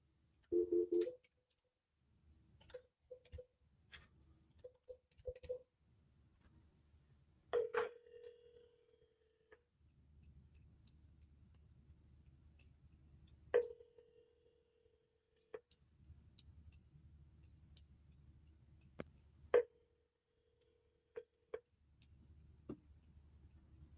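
Outgoing phone call ringing, faint and quiet, with several short ring tones separated by long pauses over a low background hum, with no voices.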